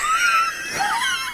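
A person's scream rings out, a loud, sustained, high wavering wail with shifting pitch that carries on for just over a second with no other voices.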